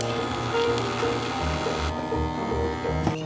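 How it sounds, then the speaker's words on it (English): A handheld cocktail smoking gun loaded with rosemary gives a steady electric motor buzz that runs continuously, fairly loud, over background music. "Now, I'll throw some rosemary into my smoking gun."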